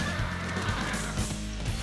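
A horse neighs in the Warriors Orochi 2 video game, a drawn-out whinny heard over dense battle noise and game music, with faint hoofbeats.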